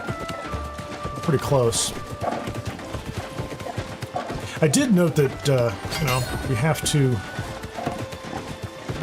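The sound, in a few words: horse hooves clip-clopping in video game New World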